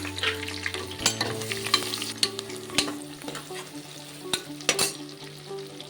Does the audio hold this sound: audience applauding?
no